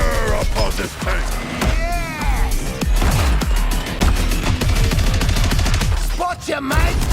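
Rapid gunfire rattles almost continuously through a chaotic battle in Suicide Squad Kill the Justice League, with sharp repeated shots, booms and characters shouting over the fighting.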